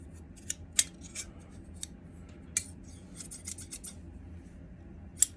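Antique King Cutter metal shears click and scrape as they are handled, with a few sharp snips and light rubbing over a low background hum.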